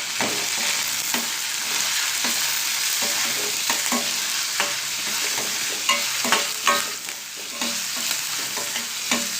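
Onion, green chillies and curry leaves stir-frying in a pan: steady crackling sizzle with repeated scraping stir strokes of a spatula, moderately close, no voices.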